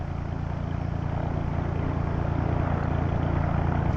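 Propeller engine of a tow plane in Flight Simulator X, a steady, loud droning hum that builds slightly and holds without a break, with no voices.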